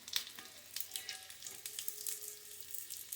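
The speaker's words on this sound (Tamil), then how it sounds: "நம்ம மிதமான சூட்டில் பொரிக்கிறோம்." Maida and egg snacks frying in hot oil over a moderate, slow flame, a steady soft sizzle with scattered crackling pops throughout, close and alone without voices.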